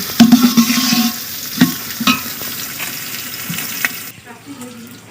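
Browned onions frying for a rice dish, a crackling sizzle with bursts of scraping as they are stirred, which eases off toward the end.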